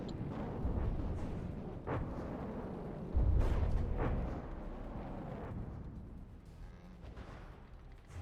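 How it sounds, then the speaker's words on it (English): Explosions from a submarine battle in the video game From The Depths, a series of deep booms and blasts rumbling in succession, with one heavy impact standing out midway. "Explosions, very nice."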